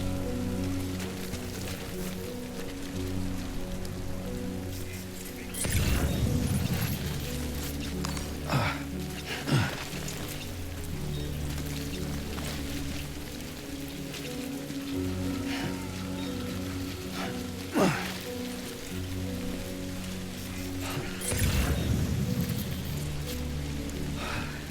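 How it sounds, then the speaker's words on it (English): Steady rain falls in Death Stranding 2, a dense continuous hiss with several louder swells, layered over low sustained tonal ambience. "Great. Rain. Gotta move."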